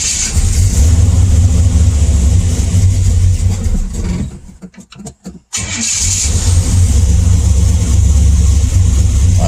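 A 1956 Chevy Nomad's engine runs with a loud, deep rumble, briefly cuts out and sputters, then fires up again and settles back into a strong, steady idle with light revving.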